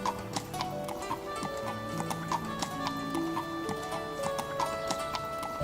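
Horse hooves clip-clop at a steady walking rhythm as a story sound effect for a merchant's pack horse loaded with goods. The even clopping runs over soft background music, with no talking.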